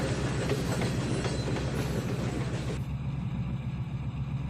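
A short two-car train in the game Trainz 2019 rumbles steadily along the rails with a rhythmic clickety-clack, loud and close, and the high hiss drops away near the end.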